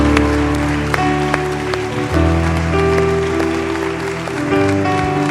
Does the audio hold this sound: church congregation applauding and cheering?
yes